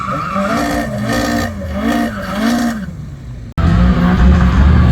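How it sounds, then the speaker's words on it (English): A BMW warms up its tires at a drag race with loud, wavering tire squeal over an engine revving hard, then a sudden cut to a roaring, rumbling engine. "BMW warming up the tires"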